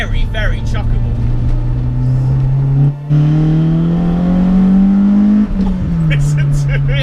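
The 170 BHP Corolla 4AGE engine in a Toyota Starlet SR revs loudly and close up, its pitch climbing steadily with a brief dip midway before it settles, with no voices over it.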